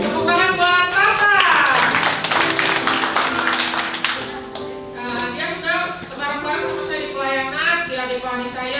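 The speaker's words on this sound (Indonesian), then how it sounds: "Tepuk tangan buat Marta." A church congregation claps its hands during an online worship service while music plays underneath, a dense burst of clapping that eases off as the music carries on.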